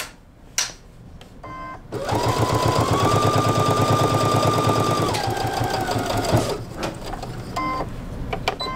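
Sewing machine stitching a vintage butterfly quilt with mono poly thread in bobbin and top, a steady, fast mechanical chatter running for several seconds, close and loud, with brief clicks before and after.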